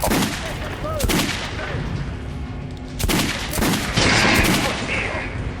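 Gunfire from Metro Last Light as a weapon is shot at a training mannequin in the video game: repeated bursts of shots, loud and close, with a few sharp impacts and a denser volley toward the end.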